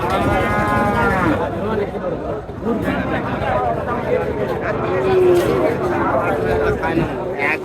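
Cattle lowing at a busy village livestock market in Naogaon, Bangladesh, with a long nearby moo rising over the murmur of traders haggling and talking in the background.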